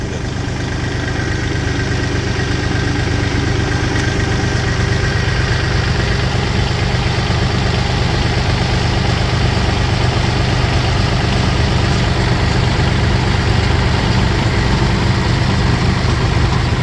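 An MTZ-82 tractor engine idles steadily and close by, a continuous low rumble with mid-range mechanical hum, unbroken and without talk, during hay baling.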